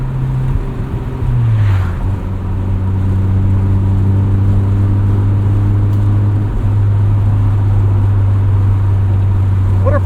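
Low, steady rotary-engine drone from a 1994 Mazda RX-7 driven with the windows down, with a shift early on and then a constant hum and road noise throughout.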